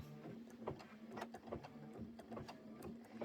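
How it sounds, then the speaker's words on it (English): Embroidery machine stitching out a foam-backed pumpkin pie appliqué design, a steady mechanical hum with quick rhythmic needle clatter repeating throughout, close and moderately quiet. "So I'm just going to put this down and stitch that out"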